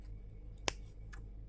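Scissors snip through bead thread for a heishi bead ring, giving one sharp, close click followed by a fainter second snip against a quiet background.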